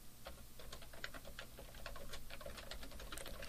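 Rapid, steady typing on a computer keyboard, with dense overlapping keystrokes clicking close and clear across the whole stretch, no voice over them.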